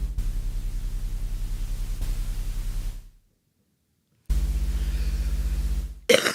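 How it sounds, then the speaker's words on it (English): Steady hiss of synthesized white noise from an iPad, loud and even, cutting out briefly into silence before returning just as strong. "let's throw in some noise. A little white noise."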